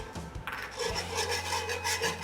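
White flour being stirred into a roux in a pan, a steady scraping and rasping of the utensil across the pan bottom that runs continuously from about one second on, close and fairly loud.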